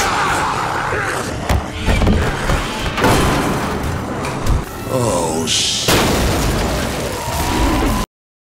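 Booming bursts and thuds from an exploding oven mixed with voices and other action sounds, loud and close, ending abruptly in silence.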